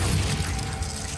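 The Confringo fire spell bursting in Hogwarts Legacy, a brief crackling blast with a low rumble and shattering, grainy texture, moderately loud and fading over a second.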